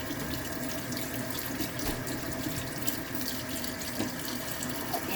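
Tap water runs steadily into a sink while a brush is rinsed after glass etching, a continuous soft splashing hiss with small spatters, heard alone at close range.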